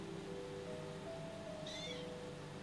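A kitten gives a single short, faint meow, heard alone against a quiet background hum.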